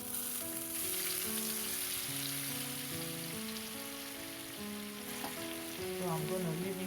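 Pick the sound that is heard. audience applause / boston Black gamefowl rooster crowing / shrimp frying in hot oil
shrimp frying in hot oil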